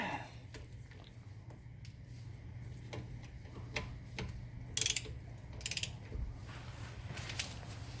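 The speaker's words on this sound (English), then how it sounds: "now I can torque it down to 26 foot-pound" A torque wrench ratchets as it tightens a bolt to 26 foot-pounds during a front brake pad and rotor job on a 2013 Chevrolet. It gives a series of sharp, close clicks over a steady low background hum.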